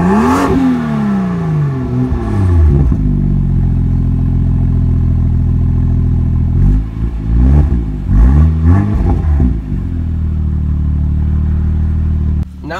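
A 2018 BMW M2 engine revs hard several times, rising and falling in loud bursts of throaty roar between steadier idling, close by with no talking.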